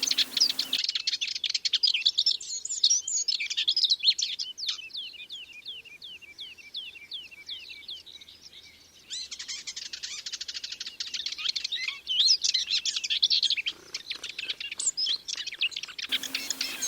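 Many small birds chirp and sing continuously outdoors in a flowering broom meadow at Plaines-Villes, Ploufragan, Brittany, with overlapping tweets and trills near and far, and no talking.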